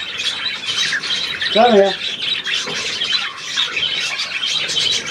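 A pet budgerigar chatters continuously, with one louder rising squawk, while a person talks to the bird nearby.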